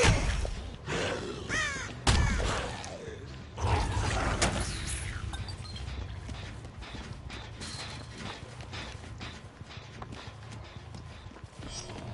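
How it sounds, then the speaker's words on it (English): Crows caw in a video game ambience, loud and close at first, with several harsh calls alongside clopping, mechanical game sounds that settle into a quieter steady backdrop. "Well, I heard crows."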